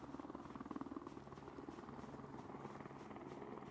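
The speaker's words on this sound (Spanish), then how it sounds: "No puedo creer que venga otro helicóptero" A helicopter in the survival video game Project Zomboid flies overhead, its steady rotor chop thrumming continuously and fairly evenly at a soft level throughout.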